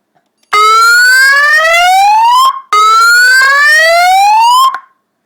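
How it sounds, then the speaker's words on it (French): A homemade siren built into a booby-trapped briefcase wails after a code is typed in. It gives two loud, rising tones, each lasting about two seconds, with a short break between them and no voices. "durant 5 secondes, la sirène retentit"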